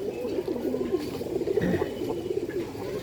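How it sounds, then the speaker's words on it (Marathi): Pigeons of Punjabi and Andhra breeds in a loft coo softly and continuously, overlapping murmuring calls close by with no talking. "मित्रांनो, कबूतर ह्यांची बघू शकताय"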